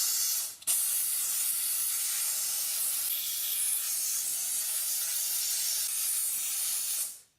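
A steam cleaner blasts a steady, loud hiss of steam onto a vehicle's wheel brake rotors to clear heavy grime, with one brief break near the start before a continuous jet that stops at the end.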